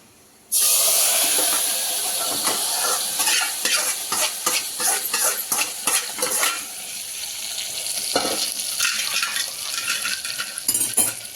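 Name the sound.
fried tempering added to cucumber dal and stirred, sizzling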